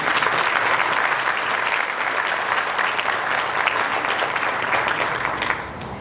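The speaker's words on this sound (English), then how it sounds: "Please give these students a round of applause." Graduation ceremony audience gives sixth grade students a round of applause, sustained dense clapping that holds steady and begins to taper near the end.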